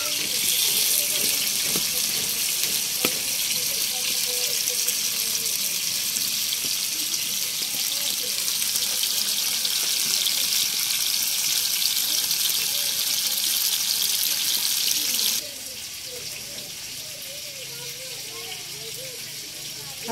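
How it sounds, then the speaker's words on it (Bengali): Fish pieces frying one by one in hot oil, a loud steady hiss of sizzling that drops abruptly in level near the end, with a voice speaking faintly over it. "এখন এই তো একে একে সবগুলোকে দিয়ে দিচ্ছে ফ্রাই করার জন্য।"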